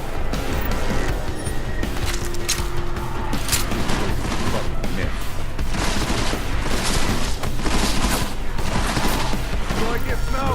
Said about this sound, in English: Sounded like a semi-auto.